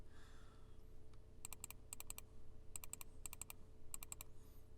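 Computer keyboard being typed on during a Realm Grinder game session, sounding as quick clustered bursts of crisp key clicks in a steady rhythm over a low background hum.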